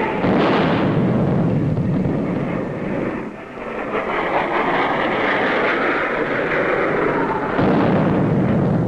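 RAF Hawker Hunter ground-attack guns in the 1960s Aden Emergency, a loud continuous roar of firing and rumble that dips briefly midway and then builds again, with no voices.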